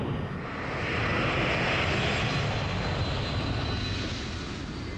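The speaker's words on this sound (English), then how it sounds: "They'll keep the brakes on until each turbofan reaches its maximum thrust." A Lockheed C-5 Galaxy's turbofan engines roar at full takeoff thrust, a dense, loud, continuous broadband rumble and hiss that holds steady throughout.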